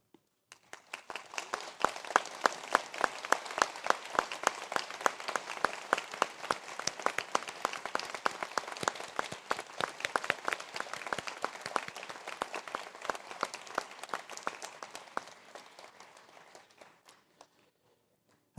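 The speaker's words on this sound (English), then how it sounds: "ask the graduates to rise and to take applause" Graduates rise at an ATU Sligo conferring ceremony as a large audience breaks into sustained applause, dense clapping swelling quickly and holding steady before tapering off near the end, with no talking.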